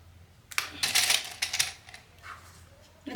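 Metal sewing clamps snap onto fabric for a bag in a few quick clattering bursts, close and crisp, with brief pauses between them and no speech.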